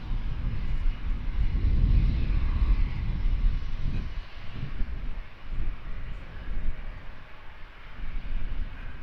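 A DHL cargo plane departs London Luton Airport, its jet engines producing a loud, sustained low roar that holds steady throughout, with no talk over it.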